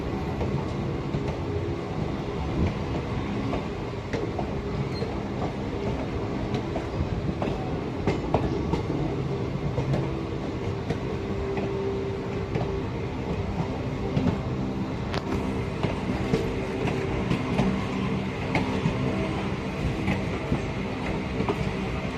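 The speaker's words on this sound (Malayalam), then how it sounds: "ഈ വണ്ടി ഷണ്ടിങ്ങിലാണ് കേട്ടോ." A shunting passenger train in reverse rumbles and clatters steadily at close range, with metallic clicks and squeaks from wheels and couplings as it moves slowly along the track.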